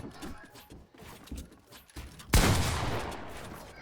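A single heavy gunshot in a shooting video game bursts out near the end, loud and close, with a hissing burst trailing after it, following a stretch of quieter in-game rumble and movement.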